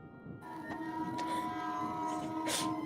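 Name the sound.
train passing, played sound effect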